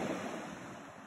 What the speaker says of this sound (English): Sea by the sea. Can you hear that?